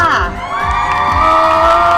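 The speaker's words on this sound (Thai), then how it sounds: "ปรบมือต้อนรับหมอเจี๊ยบให ้หมอเจี๊ยบค่ะ" An audience cheers and whoops loudly to welcome a guest at an anniversary celebration event, with a dense, continuous crowd roar and excited voices throughout.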